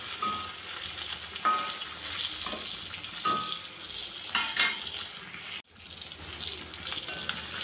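Hilsa fish frying lightly in a little oil gives a steady, moderately quiet sizzle, with occasional clinks of a utensil against the pan and no talking.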